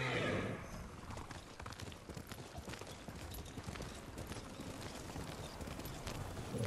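Horse hooves clip-clop steadily in Ghost of Tsushima, a brisk galloping rhythm up close, with a brief neigh and some rushing movement noise over the top.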